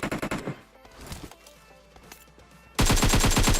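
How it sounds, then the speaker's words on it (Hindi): Automatic gunfire in the battle royale game PUBG, with rapid bursts of shots at the start, quieter scattered shots and sounds through the middle, then a loud sustained burst of fire near the end. "अब यहाँ पे गाइस आसपास फायरिंग चलने लगी है"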